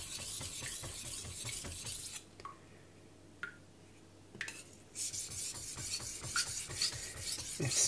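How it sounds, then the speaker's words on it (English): Steel knife blade stroked across a soft King whetstone in steady back-and-forth rasping passes, close and clear, with a short quieter pause partway before the strokes resume. "It's been so long since I sharpened on the king"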